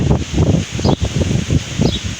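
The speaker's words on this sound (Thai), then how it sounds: "โอ้ลมแรงอีกแล้วนะคะ" Strong evening wind rushes through leaves outdoors, loud, close gusts of rustling that swell and ease in rapid waves, with no talking.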